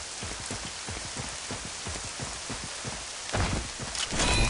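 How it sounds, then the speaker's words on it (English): Steady rain falls in a UDK video game level, a dense even patter of drops that grows louder and heavier near the end, with no thunder evident. "you can hear the rain, and you'll hear the lightning too"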